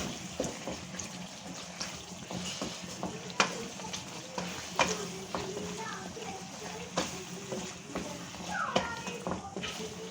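Chicken karahi with yogurt and karahi masala fries in a pan, giving a continuous sizzle broken by scraping stirs and soft clinks, close and moderately loud, with occasional voice in the background.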